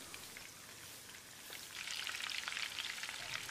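Chicken 65 pieces frying in hot oil, a soft crackling fizz that grows denser and louder about halfway through and then holds steady, with no voices.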